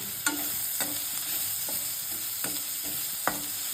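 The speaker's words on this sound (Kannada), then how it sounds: "ಇದೇ ರೀತಿ ಬ್ರೌನ್ ಆಗೋಷ್ಟು ಫ್ರೈ ಮಾಡ್ಕೋಬೇಕು." Garlic and cumin seeds frying slowly in a pan until light brown, giving a steady soft sizzle with a few sharp spoon-scraping stirs spaced through it, no voices.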